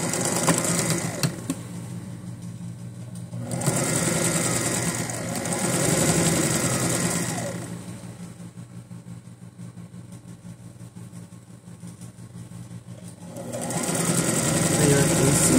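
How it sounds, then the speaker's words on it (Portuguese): Electric sewing machine stitching fabric along a marked line, whirring in steady bursts that stop and restart, with someone talking over the pauses. "Vamos costurar"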